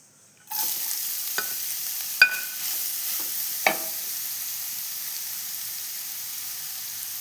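Grated carrot sautéing in hot ghee for payasam, a constant crackling hiss that starts abruptly after a brief silence, with a few sharp clinks and scrapes of a spoon against the pan and no talking.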